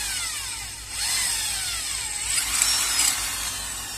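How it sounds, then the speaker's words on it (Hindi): A handheld drill machine bores a 6 mm hole, a steady whining motor hum that surges louder about a second in and holds through the cut, with faint swooping pitch changes and no talk. "इसमें ड्रिल का होल करेंगे"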